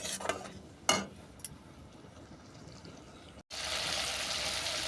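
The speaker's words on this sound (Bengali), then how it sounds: "আবারও তেঁতুলের কাতের সঙ্গে মশলাটাকে ভালো করে কষিয়ে নিচ্ছি যতক্ষণ না এই জলটা শুকনো হচ্ছে" Masala with tamarind pulp is stirred and sautéed in a pan until its water dries. A quiet wet sizzle comes with a few spoon knocks early on, then a brief drop to near silence and a louder, steady hissing sizzle.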